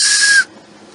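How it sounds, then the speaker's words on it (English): A small multi-holed whistle with its holes covered gives one loud, bright, steady high tone lasting under half a second, then cuts off abruptly into quiet. "if I leave it covered, it still whistles"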